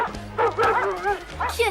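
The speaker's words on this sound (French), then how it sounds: "Aboie très fort, peut-être qu'ils vont comprendre." A cartoon dog named Bélus gives a run of short, excited yips and bow-wow barks, loud and close, mixed with whimpering tones and a steady background hum.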